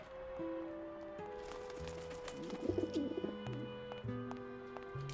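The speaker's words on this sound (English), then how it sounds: "I don't have a net or a desire to have a pet pigeon." A pigeon coos briefly in the video game Grim Fandango, a soft burbling call rising out of steady, sustained game music tones that play throughout.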